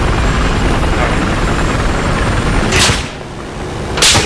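Rotor thump of a helicopter in Battlefield 4 fills the scene loudly and steadily, with two sharp gunshot bursts breaking in near the end.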